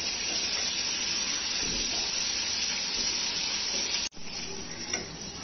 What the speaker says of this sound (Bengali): মিডিয়াম ফ্লেমে চিকেন পপকর্ন গুলো উল্টে পাল্টে ভালো করে ভেজে নেব।